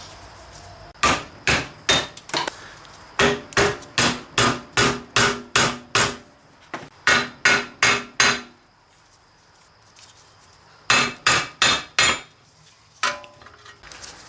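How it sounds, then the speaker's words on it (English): Repeated loud metallic hammer strikes as a wheel hub is hammered onto the steering knuckle of a 2002 Mitsubishi Lancer, in quick rhythmic bursts of several blows each, with short pauses between groups, close and ringing. "I'm going to start hammering it on."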